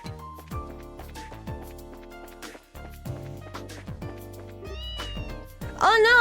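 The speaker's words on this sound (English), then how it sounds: "Oh no, the cat wants to go." An orange cat in the Trails in the Sky video game gives several bright, clear meows over gentle in-game music, ending in a louder drawn-out cry.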